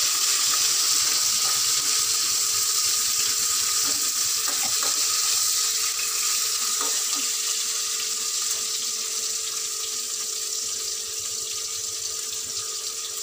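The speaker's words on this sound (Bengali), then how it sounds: "পেঁয়াজ দিয়ে দিলাম, একটু নাড়বো, নাড়াচাড়া করে তারপরে দেবো।" Onions frying in a pan and being stirred, a steady bright hiss and sizzle that runs evenly throughout with faint scraping touches, close and fairly loud, no talk.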